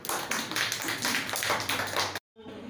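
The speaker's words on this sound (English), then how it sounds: "Clap for yourself." A nursery-class child claps rapidly for about two seconds, a dense run of sharp close hand claps that stops abruptly.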